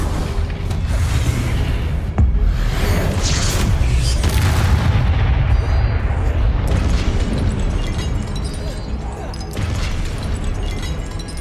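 Fiery blasts from the Confringo explosive spell in Hogwarts Legacy boom one after another, loud and dense throughout, with rumbling debris layered beneath the repeated detonations.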